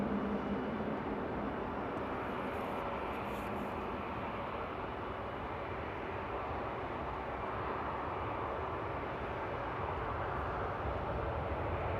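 Jet airliner (a "Queen") landing at Frankfurt Airport on a winter morning, a steady broad roar of engines heard from outside, constant and fairly loud throughout with no voices.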